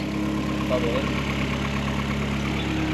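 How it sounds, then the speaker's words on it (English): A Vauxhall Astra VXR Nurburgring engine idles steadily as it warms up, a constant low mechanical hum that stays close and even throughout, with a voice speaking briefly over it. "we'll let that warm up and we'll give it a little rev"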